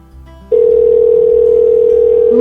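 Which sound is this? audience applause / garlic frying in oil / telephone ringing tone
telephone ringing tone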